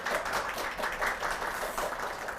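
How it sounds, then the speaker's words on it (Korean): An audience at a lecture show gives a speaker a round of applause, a faint, steady patter of many hands clapping that carries on evenly with no voices over it. "오늘 좋은 말씀 해주신 선생님께 다시 한번 큰 박수 부탁드릴게요"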